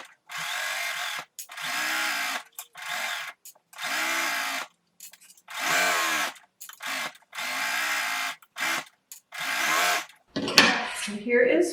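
A domestic sewing machine stitches a side seam of a slip, running in repeated bursts of one to two seconds separated by short pauses, close and clear, ending with a brief handling clatter.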